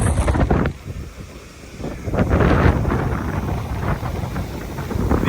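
Strong wind gusting across a microphone at a rail grain unloading site during wheat harvest, a steady rushing roar that swells and eases in broad gusts with no talk.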